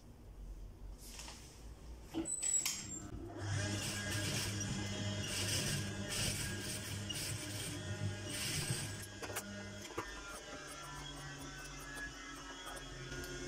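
Sewing machine stitching a collar on a placket-neck garment, running steadily for about eight seconds after a few handling clicks, close and moderately quiet.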